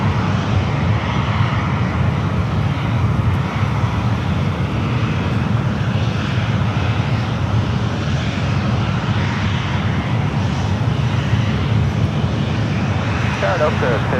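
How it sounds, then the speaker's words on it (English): An American Airlines Airbus A321 in special flagship livery touches down on runway 28 at San Francisco airport, a broad, steady engine roar running loud throughout, with voices talking over it. "the flagship Valor American A321 touching down on the 28s heading"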